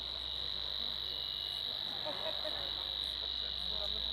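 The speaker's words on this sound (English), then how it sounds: "This bird is English, is called Savi's warbler." A Savi's warbler gives a steady, continuous high insect-like reeling trill that runs unbroken through the whole stretch, fairly loud and even, with faint background sounds and no speech.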